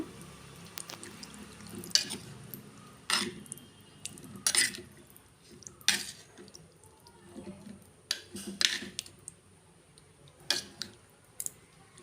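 Rice being mixed with thick, undiluted curd in a bowl, a spoon scraping and clinking against the dish in irregular strokes, fairly close and quiet with no talking.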